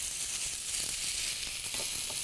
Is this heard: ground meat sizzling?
yes